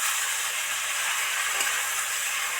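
Shredded cabbage in a hot pan, a steady bright hiss of sizzling and steam that stays even throughout, with no talking.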